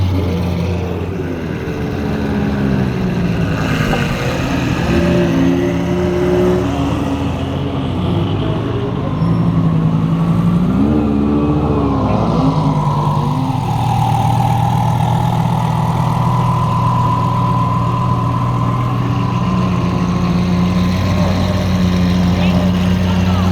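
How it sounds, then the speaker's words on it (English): Several cars at the Sunset GT car show start up and roll forward, a continuous mix of idling and revving engines with a rising drone, steady and fairly loud, with people talking nearby. "Looks like all the cars are starting up, beginning to go."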